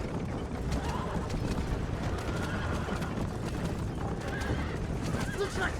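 Horses neigh and gallop with rapid clip-clop hoofbeats in the Western video game Red Dead Redemption, with a few creaking mechanical clicks in a steady, fairly quiet game soundscape.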